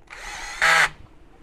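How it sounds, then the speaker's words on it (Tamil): A power drill drives a screw into a coated iron pipe grow-bag stand for a wall mount: a short motor whir that rises into a louder, higher burst under load, then winds down, with no talking. "இங்கே மேலேயும் ஒரு ஸ்க்ரூ போட போகிறேன்"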